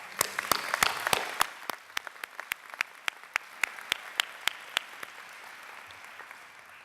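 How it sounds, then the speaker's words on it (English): Applause from a commencement audience of graduates' supporters, a mix of scattered claps over a steady patter that fades as the clapping thins to a few loud, regular claps near the end. "Please give yourselves a big round of applause."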